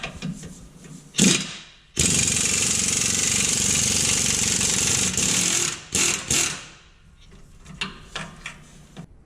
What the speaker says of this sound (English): Next, we're going to use a 15/16 socket to remove the U-bolt nuts on the bottom of the axle.